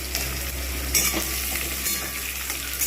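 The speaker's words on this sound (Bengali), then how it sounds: "তেল ভালো মতো গরম হয়েছে এইবার আমি এর মধ্যে পেঁয়াজগুলো দিয়ে দেবো" Onions for chicken biryani fry in hot oil, a steady close sizzle and crackle running throughout with a few brief clinks of a utensil and no talking.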